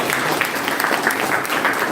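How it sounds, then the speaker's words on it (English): Classroom audience in a business analytics session gives a short round of applause, steady dense clapping lasting about two seconds with no voices over it. "Please give him a big round of applause."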